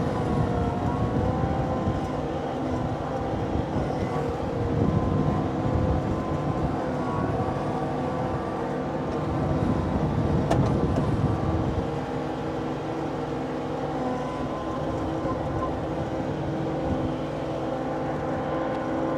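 A Kioti CK2610SE HST cab tractor with loader runs continuously with a steady engine drone and a mechanical hum, a few louder swells but no talk over it.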